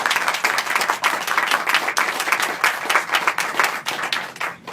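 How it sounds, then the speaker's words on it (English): A crowd applauds steadily at a groundbreaking ceremony for a pedestrian undercrossing in Santa Clara, dense clapping that holds at full strength throughout with no voices. "Let's give them all a round of applause."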